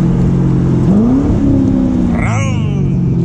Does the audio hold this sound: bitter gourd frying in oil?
no